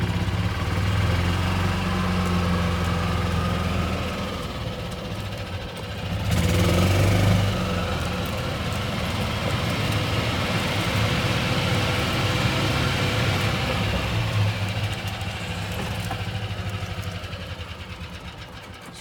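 A car's engine hums steadily from inside the cabin as it rolls slowly through a tunnel and around an outdoor event space, a continuous low drone with a brief swell partway through, no one talking.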